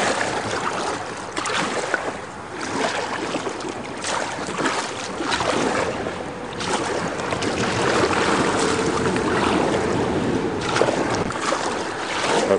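Solo kayak paddling on the Passaic River, with steady close water churn and splashing from the paddle and hull running continuously, plus a broad wash of moving water and wind.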